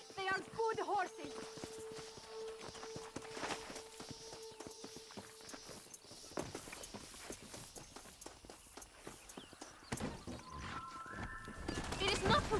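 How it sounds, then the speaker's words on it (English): Horses pulling a stagecoach in the Red Dead Redemption video game, hooves clopping in a steady trot under spoken dialogue, with wheel and harness rattle mixed in and a few brighter tones near the end. "They are good horses."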